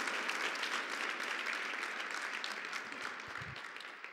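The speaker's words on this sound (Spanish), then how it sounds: "El aplauso." A church congregation claps during a pastor's sermon, a steady wash of applause that sounds fairly faint and distant, thinning toward the end.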